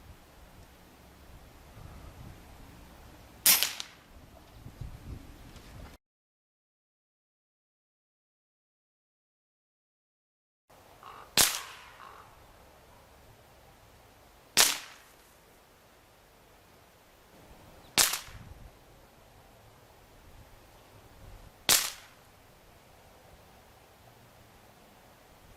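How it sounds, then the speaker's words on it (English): An FX Independence air rifle fires five sharp, separate shots at a target 26 yards away in calm outdoor air, with a few seconds between shots and a silent gap partway through. "perfect day to test the accuracy of the rifle"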